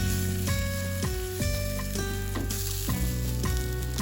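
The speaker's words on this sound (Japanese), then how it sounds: "今回は玉ねぎにんにくを炒めてタレで香ばしさを出していきたいと思います。" Onions and garlic stir-frying in a frying pan over medium heat, a loud continuous sizzle with regular bursts of stirring and tossing roughly every half second, with music playing underneath.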